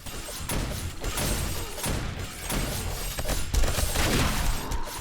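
Dense, sustained gunfire in the 7 Days to Die blood moon horde battle, continuous rapid shots and impacts blending into a steady, busy roar with scattered louder bursts.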